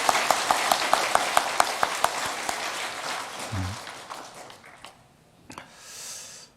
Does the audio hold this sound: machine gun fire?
no